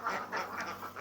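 Ducks quack in a steady run of several nasal calls, fairly close and moderately loud, with no talk over them.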